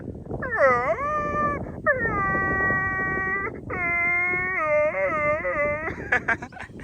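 A dog whimpers in long, drawn-out, rising and falling whines, several in a row, close and clear, with faint background noise.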